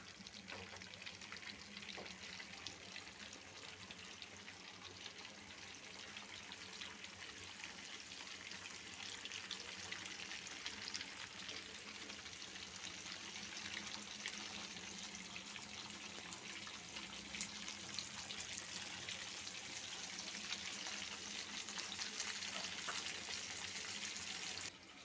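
Pangas fish pieces fry in hot oil in a home kitchen, giving a steady, quiet sizzle that holds evenly throughout with no talking.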